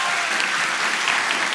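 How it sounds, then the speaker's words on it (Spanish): Brief burst of dense, steady clapping from a live comedy-show audience during a contest, continuous and fairly loud across the short stretch. "¡Aplausos!"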